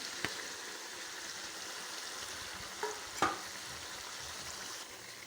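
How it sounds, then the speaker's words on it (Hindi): Steady, close sizzling of chicken frying with ginger and garlic in a hot pan, with a few brief scraping clicks of stirring. "अदरक लहसुन ऐड कर दिया है, इसको अब अच्छी तरीके से भून लें।"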